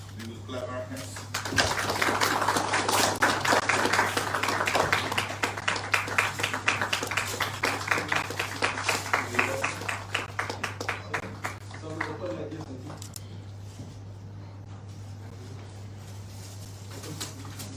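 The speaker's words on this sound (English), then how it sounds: "We will clap our hands." An audience at a Congress party manifesto launch in Shillong, Meghalaya breaks into sustained hand clapping that builds quickly, stays steady for several seconds, then fades away, with a low hum throughout and voices under it.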